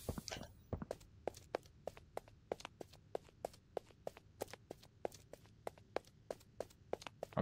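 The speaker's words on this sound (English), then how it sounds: "I'm hearing footsteps." Footsteps in the horror video game Poppy Playtime Chapter 2: a long, regular run of sharp, distinct steps at an even, brisk pace, fairly close and standing alone over a quiet background.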